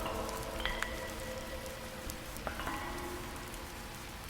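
Steady rain patters on a car, a dense, continuous hiss of drops with a few faint tonal streaks, moderately quiet and free of voices.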